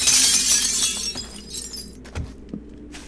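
Glass shatters loudly in 7 Days to Die as objects are smashed, a bright breaking crash that fades into a few scattered clinks and small thuds.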